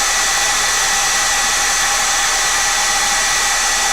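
A hair dryer blows continuously at close range, a loud, unbroken airy roar drying a pencil sketch, with no other sounds over it.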